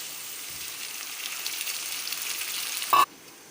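Vegetables and tomatoes for masala poha fry in a pan with a soft, continuous sizzle at moderate distance, ending with a short clatter.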